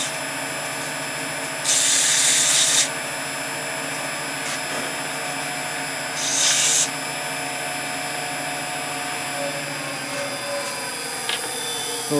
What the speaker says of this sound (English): I'll just use a little bit of sandpaper and take this down with the sandpaper